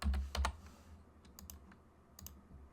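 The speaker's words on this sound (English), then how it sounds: "we're going to type in bump" A few quick clicks on a computer keyboard, with two heavier keystrokes at the start and then softer, scattered taps, quiet and close, with no talk.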